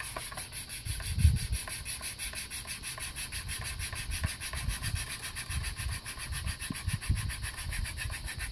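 A bow drill grinds a spindle against wood to start a friction fire, giving a steady rasping rub with repeated strokes that stay close and moderately loud, and nobody speaks.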